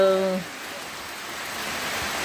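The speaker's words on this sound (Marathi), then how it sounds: "आता पुन्हा पावसाला सुरुवात झालेली आहे" Rain falling steadily outdoors during the monsoon, a soft continuous hiss of drops on surfaces after a brief fading tone at the start, even and moderately close with no talking.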